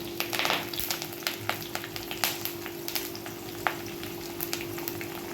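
Garlic sizzling in hot oil with green chilies and curry leaves for a Marathi methi dal, a steady crackling hiss broken by sharp pops and spatters, fairly close and loud with no talking.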